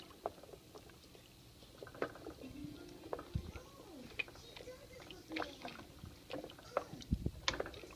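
Chicken soup ingredients are stirred in a pot, with irregular wet clinks and sloshing bursts that come close and alone.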